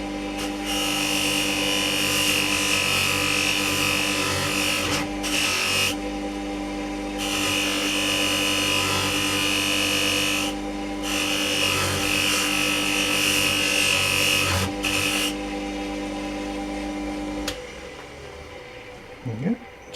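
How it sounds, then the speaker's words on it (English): A power grinder lightly polishing a metal part of a Marples Shamrock vice, a loud steady high whine that cuts out briefly a few times before stopping near the end, with a voice speaking over it. "I'll just run it round with a grinder just very lightly"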